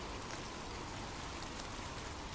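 Steady rain falls in an even, continuous wash across the whole stretch, dense with fine droplet patter and no voices, loud and close throughout.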